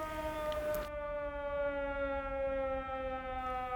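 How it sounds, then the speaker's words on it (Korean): A civil defense siren sounds at noon in 1939 Korea, a steady sustained wail held at a faint distance, continuous throughout. "일본의 황국 신민서사를 위한 사이렌이 울려 퍼지고 있다."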